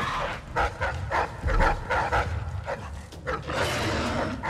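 Dogs bark repeatedly in the video game Dishonored 2, close and loud yaps and growls over game sound effects and background ambience.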